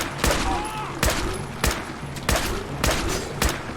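Gunfire in the Fallout 4 video game rings out as loud, evenly spaced shots, about six sharp blasts with ringing tails in quick rhythm.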